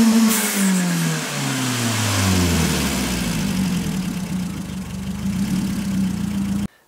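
A car engine fitted with an adjusted dump valve idles steadily, its low droning hum dipping and settling after an initial drop in pitch, close and loud, then cutting off abruptly.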